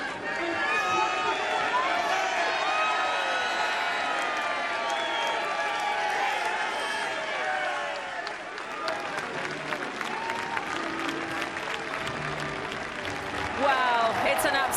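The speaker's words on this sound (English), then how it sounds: "The crowd has gone absolutely mad for Frankie Dettori" A racecourse crowd at the Prix de l'Arc de Triomphe applauds and cheers Frankie Dettori after the win, a loud, sustained roar of clapping and voices with a commentator speaking over it.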